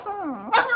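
A small dog gives a single close yelping bark with a whiny, rising-and-falling tone that ends in a sharper yip.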